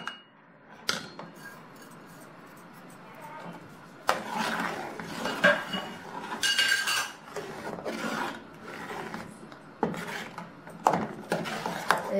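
A pot of black-jaggery urad dal porridge with salt and cardamom powder being stirred, giving irregular scraping and clinking of a spoon against the pot in bursts, close and fairly quiet, with no talk.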